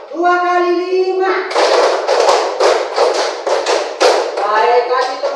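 A class of young pupils claps together in a rhythmic classroom clapping cheer, a rapid run of loud, close claps following a man's spoken call, with voices over the start and end.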